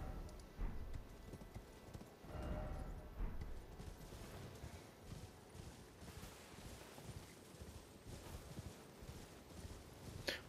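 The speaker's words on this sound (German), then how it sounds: "Da ist unser Pferd" Horse hooves clip-clopping at a steady walking rhythm in the video game Elden Ring, fairly quiet and mixed with ambient game sounds, no talking.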